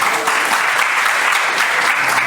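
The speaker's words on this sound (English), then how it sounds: "Give him a one big round of applause, please." An audience applauds after a storytelling performance, steady dense clapping from many hands, loud and close, holding evenly throughout.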